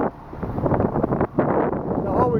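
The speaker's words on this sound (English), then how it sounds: "while we come up here out of the wind" Wind blowing outdoors at a property where dirt is being piled and a tree cut, a steady broadband rush buffeting the microphone almost continuously, with a brief lull near the middle, under faint speech.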